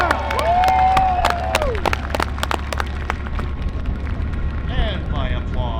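At a tank demonstration day, a crowd cheers and applauds for the M60 tank crew, loud and spread out, with sharp whistles cutting through and a voice over the top.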